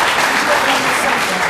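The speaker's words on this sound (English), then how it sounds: "Can we have a round of applause for Sir Peter Sophie?" Audience applause at a programme event honouring Sir Peter Sophie, a steady wash of clapping across the whole short stretch with no quiet gaps.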